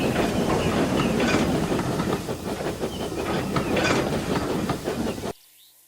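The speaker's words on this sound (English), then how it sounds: "soon Murdoch shrieked through with a heavy goods train." A heavy goods train in a Thomas the Tank Engine cartoon rumbles past close by, wheels clattering rhythmically over the rails with a hissing roar, then the sound cuts off abruptly.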